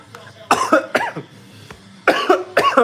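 Several harsh coughs close to the microphone, in two clusters separated by a short quiet pause.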